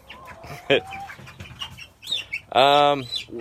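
Leghorn chickens cluck and squawk close by in a backyard coop, one loud, drawn-out squawk standing out near the end among brief clucks and faint background noise.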